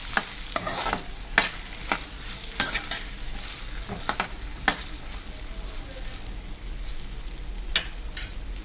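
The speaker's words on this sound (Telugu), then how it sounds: "ఇలా అన్నీ వేసుకున్న తర్వాత ఆయిల్ మొత్తం అన్నిటికీ పట్టేలాగా ఒకసారి బాగా కలుపుకోండి" Potato pieces are stirred through hot oil in a pan. A continuous fry hiss runs under repeated sharp scrapes and clinks of the spatula against the pan, some louder than others.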